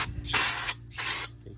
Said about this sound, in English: And spray with the brake cleaner,